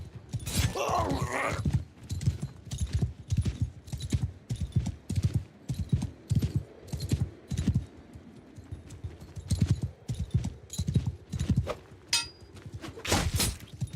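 Steady rhythmic hoofbeats of a horse in a medieval battle video game (Old Realms mod) clip-clop at a quick pace throughout, with occasional metallic clinks and a brief whinny-like sound early on.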